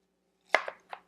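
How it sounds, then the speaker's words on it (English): A knife cuts an onion into thin rings on a board, making three crisp chopping taps close by in quick succession, with quiet pauses between them. "if you slice it in half and turn it on its side, then you can slice it"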